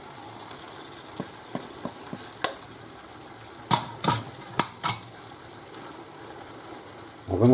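Tomato poured into a pan of frying lamb chops, with a steady low sizzle, a series of spoon-on-pan clinks and scrapes, and a few louder knocks from stirring toward the end.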